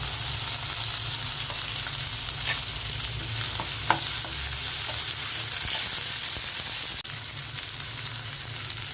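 Meat with ginger garlic paste sizzles and fries steadily in a pan for rainy-day cooking, with occasional stirring scrapes and clinks over a continuous crackling hiss; no voices.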